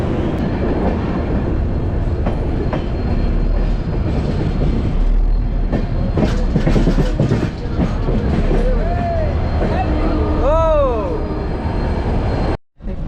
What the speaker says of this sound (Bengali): আমাদের ডিব্রুগড় নিউ দিল্লি রাজধানী এক্সপ্রেস ছেড়ে দিল নিউ জলপাইগুড়ি রেলওয়ে স্টেশন থেকে